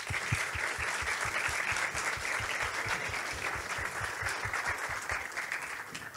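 An audience claps steadily at a talk on designing and building a homemade computer, a continuous round of applause of even loudness with distinct individual claps near the front.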